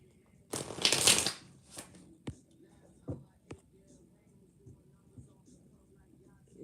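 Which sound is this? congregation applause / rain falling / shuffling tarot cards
shuffling tarot cards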